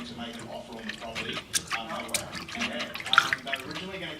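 Lace being washed in water makes soft sloshing and dripping splashes, close by and running continuously beneath a person talking.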